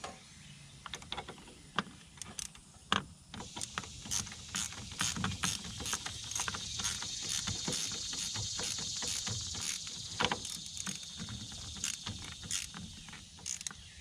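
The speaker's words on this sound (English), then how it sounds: "And reconnect the negative terminal using a 10mm also." A ratchet with a 10mm socket tightens the negative battery terminal on a 2001 Ford E250, giving rapid bursts of close, crisp clicking in repeated strokes.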